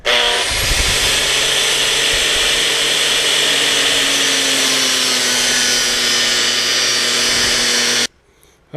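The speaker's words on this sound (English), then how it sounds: "About 15 minutes with the grinder," An angle grinder cuts a metal profile for a homemade track clip installation tool: a loud, continuous, close-up shriek with a slight pitch drift that holds for about eight seconds, then cuts off abruptly.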